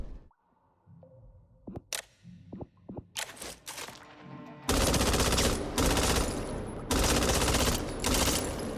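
Gunfire in the zombie shooter game Back 4 Blood: scattered single shots first, then a long, loud sustained automatic burst that continues with brief breaks.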